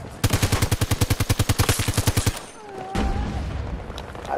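An RM68 rifle in Battlefield 2042 fires a rapid automatic burst of roughly twenty evenly spaced, loud, punchy shots. After the burst stops, softer game ambience and a faint whooshing effect follow.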